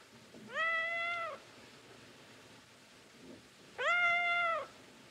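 A cat gives two clear, drawn-out meows about three seconds apart, each close and fairly loud over a faint hissing background, with no speech.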